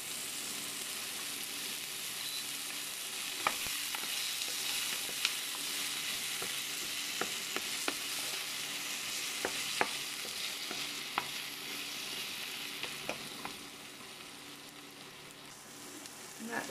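Frozen spinach cubes cook in a pan, a steady close sizzle broken by repeated scraping stirs and occasional sharp clicks of a utensil, with no talking.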